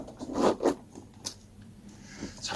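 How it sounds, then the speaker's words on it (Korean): A side zipper on BERIK Race-X long motorcycle boots gives a few short, close rasping pulls, quick and quiet, with small scrapes in between. "자, 옆에 이렇게 지퍼가 있어요."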